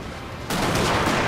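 Volley of musket fire from troops in Shogun 2: Fall of the Samurai, a sudden dense burst of overlapping shots that starts abruptly and holds as a loud, rolling crackle.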